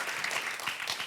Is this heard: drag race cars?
no